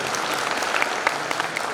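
An audience claps at a motivational talk, producing a steady patter of many hands with a few sharper individual claps standing out, moderately loud throughout.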